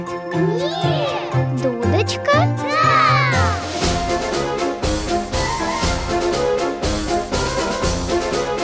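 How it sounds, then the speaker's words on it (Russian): A small bell jingles and tinkles in a children's sound-guessing game, heard amid bright cartoon music, sound effects and a voice. "Да! Колокольчик?"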